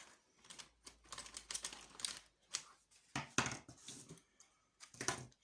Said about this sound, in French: je vais couper un petit peu par ici